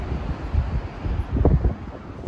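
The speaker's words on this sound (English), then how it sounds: "it's been extremely windy. Huge storm blowing in from Arizona" Strong wind from a dust storm buffets the microphone in low, rumbling gusts that rise and fall, with no voices.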